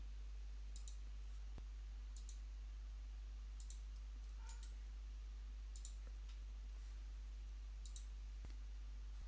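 A computer mouse clicks while saving images from ArchiCAD with a right-click and save-as: a series of faint, sharp, evenly spaced clicks in a quiet room with a low steady hum.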